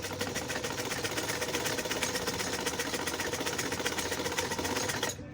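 A sewing machine runs steadily while stitching the folded edge of fabric for a sleeve and trouser design, a fast, even mechanical rattle close by that stops abruptly at the end.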